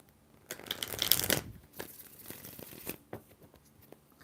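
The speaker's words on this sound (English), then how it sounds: "4 shuffles for Alexis Williams." Tarot cards being riffled and shuffled in several quick bursts, crisp papery flutters with brief pauses between, close by.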